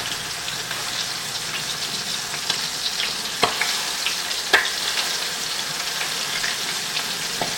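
Chicken wings sizzling and crackling steadily in hot oil in a cast iron pan, with a few sharp pops and spatters.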